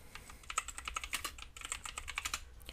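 Quick bursts of typing on a computer keyboard, crisp key clicks landing in an uneven rhythm, close and fairly quiet, with no one speaking.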